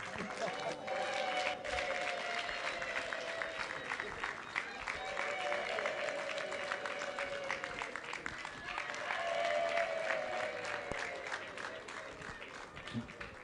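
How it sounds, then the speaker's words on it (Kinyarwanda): A church congregation claps and ululates in celebration at a wedding-giving ceremony, a dense, continuous wave of applause with high trilling voices rising above it and swelling again near the end, loud and close. "Oya impundu noneho mukube gatanu."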